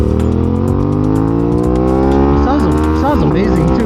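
An Aprilia RS660 two-cylinder motorcycle engine revs loud and close, its pitch climbing smoothly and then wavering through a few quick throttle blips near the end.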